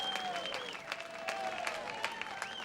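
A crowd at a World's Strongest Man event in 1995 claps steadily, with a shrill whistle rising and falling over the sustained applause.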